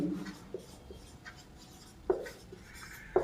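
Chalk or marker writing on a classroom board during a Class 8 maths lesson, faint scratchy strokes with a few short taps, quiet and close with no talk.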